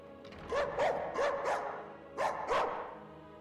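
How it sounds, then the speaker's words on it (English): Dogs in the video game Skyrim bark in short bursts, two quick barks, a pause, two more, then another pair, moderately close and with no talk. "You guys are just barking too much in the background."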